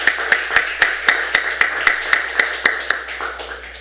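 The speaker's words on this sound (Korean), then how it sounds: "우리 박수 한번" A church congregation at Sunday worship claps in steady unison, about a dozen sharp, evenly spaced beats that soften toward the end, heard close and clear with no talking.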